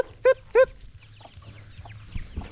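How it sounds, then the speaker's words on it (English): Chickens cluck twice loudly and close by at a house under construction, two sharp bursts followed by softer scattered clucks and shuffling over low background noise. "Wait, chickens, go away."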